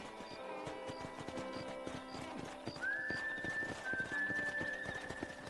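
Steady clip-clop of galloping horse hooves in the video game Red Dead Redemption, kept up under game music, followed partway through by a long rising whinny.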